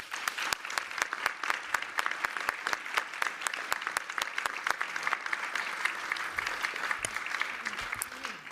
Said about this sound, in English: please let us applaud them again